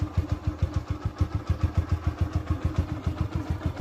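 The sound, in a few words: Apache 180 RTR motorcycle engine idling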